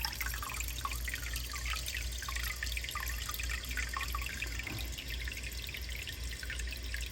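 A hose fills an aquarium in a fish room with water, making a steady close trickle and splash with scattered drips throughout. No one speaks.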